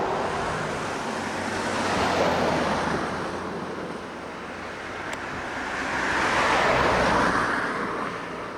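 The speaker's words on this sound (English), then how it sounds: "As you can hear, there's a fair amount of traffic that does come through here" Road traffic passes near Sooke Basin, two broad swells of tire and engine noise rising and fading as vehicles go by, over steady wind rumble outdoors.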